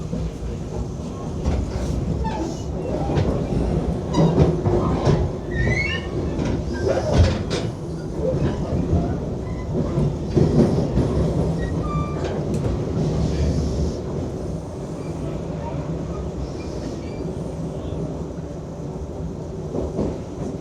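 Steady rumble and rattle of a moving train in Paris, heard from inside, with occasional clunks and squeaks over the continuous roar.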